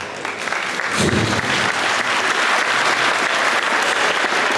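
A crowd at a Lithuanian RKL basketball all-star day event applauds, producing dense, sustained clapping that stays loud and even throughout, with no speech over it.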